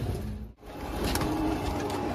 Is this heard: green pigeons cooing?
yes